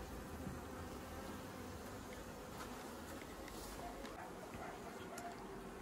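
Honey bees drone in a continuous dense buzz around a hive while a swarm is being merged with a mite-damaged colony, the hum close and steady throughout.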